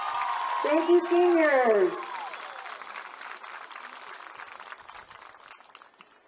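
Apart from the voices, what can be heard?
applause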